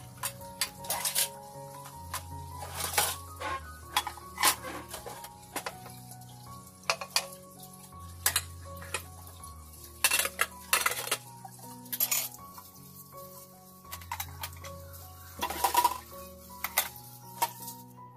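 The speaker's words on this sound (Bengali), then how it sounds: "অনেকগুলা হাঁড়ি পাতিল দেখেছেন, যেগুলো গত রাত থেকে আমি জমিয়ে রেখেছিলাম আজকে ক্লিন করার জন্য।" Pots and pans are scrubbed and stacked in a home kitchen, producing sharp intermittent metallic clanks and clatters spread across the stretch, with quiet pauses between bursts and no talking.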